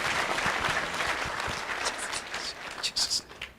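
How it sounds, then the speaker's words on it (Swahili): Applause at a church burial service: a crowd claps together, loud at first and then thinning out into scattered individual claps toward the end, with no voices over it. "pigieni Mungu makofi."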